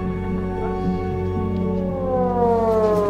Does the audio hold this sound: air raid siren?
yes